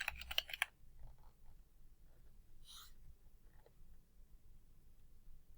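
A quick flurry of keyboard keystrokes opens, crisp rapid clicks typing a short word on a computer keyboard, then near silence with a couple of faint isolated clicks in a quiet room.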